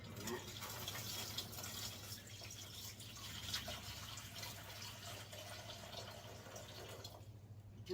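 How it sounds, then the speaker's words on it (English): Water pouring steadily into the reservoir of an Ice Master beer tap pump for 5-litre kegs, a continuous close running-water wash with faint trickling, fading out near the end. "you need to fill it up with water to the max line"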